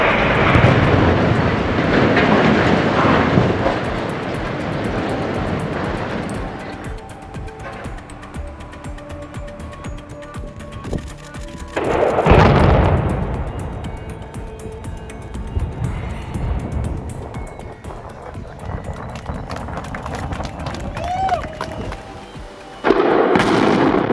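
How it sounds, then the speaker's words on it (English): Demolition explosives bring down a structure over 230 feet high: a loud opening rumble and roar fades away, then two more sharp, booming bursts rise out of a quieter background, echoing like distant blasts. "Can you picture 265 pounds of explosives bringing down a structure over 230 feet high"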